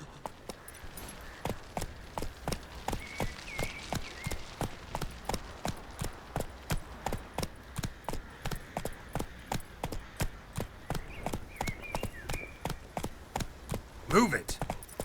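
Roach the horse trotting in The Witcher 3, with steady, evenly spaced hoof clip-clops on hard ground running throughout at a moderate distance, plus a brief louder thump near the end.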